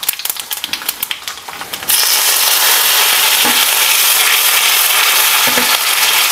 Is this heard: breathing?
no